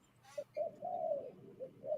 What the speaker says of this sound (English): They're pigeons.